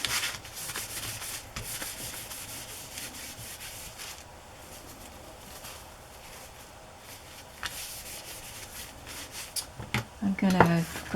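A hand wipes sawdust and cardboard dust off a work surface, making soft, continuous rubbing strokes that stay close and fairly quiet, with a few louder scuffs near the end.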